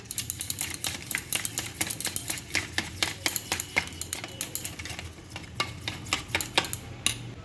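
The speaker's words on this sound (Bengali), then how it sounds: "দিয়ে আবার ভালো করে ফেটিয়ে নেব।" A paneer or egg tikka marinade with ginger garlic paste is beaten briskly in a bowl, giving rapid, evenly rhythmic clicking and tapping of a utensil that continues close and loud throughout.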